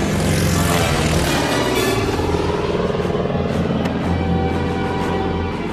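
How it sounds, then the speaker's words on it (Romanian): A cartoon airplane in trouble roars past low overhead, a loud, rough engine drone with shifting pitch and clattering that swells and holds before easing slightly at the end. "E un avion și cred că are necazuri."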